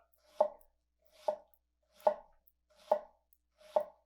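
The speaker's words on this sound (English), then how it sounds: "It's a really smooth cut. It's not ripped the whole onion apart" Five crisp, evenly spaced cuts of a nakiri knife slicing down through an onion onto a cutting board, each a short sharp thud with a brief crackle, steady rhythm, close and alone.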